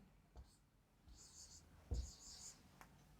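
A marker writes on a board during a compound interest maths lesson, with short, squeaky strokes in several bursts and a faint voice in the background.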